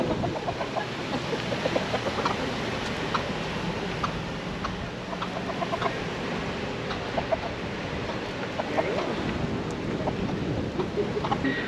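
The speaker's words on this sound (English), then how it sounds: "No wonder why they were cock-a-doodle-dooing." Roosters and other fowl crow and cluck amid a busy outdoor wash of ambient noise, the calls scattered through the scene rather than sharply close.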